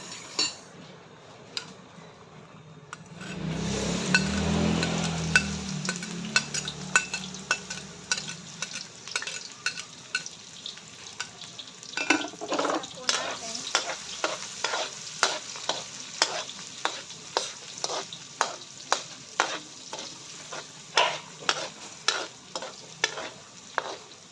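Garlic and onion hit a hot pan with a loud burst of sizzling, then a utensil stirs and scrapes in a fast, regular rhythm of metallic clinks over the ongoing fry, close by with no talking.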